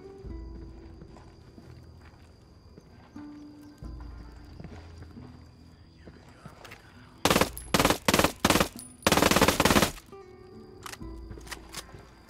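Video game gunfire in Ghost Recon Wildlands: two loud bursts of rapid automatic shots break out over quieter background game sounds, each lasting about a second or more.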